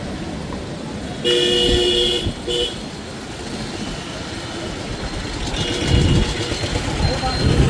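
City road traffic during the office rush, with auto-rickshaws lined along the road: a couple of loud car horn blasts cut through a steady engine rumble, with voices in the background.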